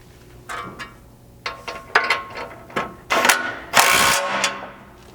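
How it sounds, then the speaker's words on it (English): A 3/4 inch socket wrench ratcheting as it tightens rock slider bolts along the bottom of a Bronco, a series of clicking ratchet strokes in uneven bursts, moderately close with no talk. "you can use a 3/4 inch socket, run all the way along the bottom hardware"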